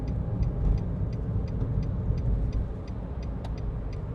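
A car cruises in second gear during a driving lesson on a road approaching a roundabout, a steady low engine and road rumble with a faint rhythmic indicator ticking throughout.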